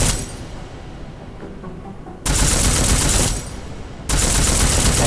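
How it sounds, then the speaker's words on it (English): A heavy futuristic rifle from Deus Ex: Mankind Divided fires armor-piercing rounds in two long, loud, sustained bursts. The dense, booming fire drops briefly to a rumbling lull between them. "It sounds like a very heavy weapon system."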